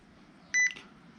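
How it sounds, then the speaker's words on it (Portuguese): A single short electronic beep from a TAV 1000 device, clear and close, about a tenth of a second long, with a quiet room behind it. "Sempre esperar o bip para cima."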